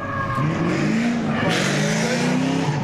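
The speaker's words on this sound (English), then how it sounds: "Loud car." A loud race car at Palm Beach International Raceway during a birthday bash event roars close by, engine revving and shifting pitch continuously, with faint tire noise, overpowering everything else.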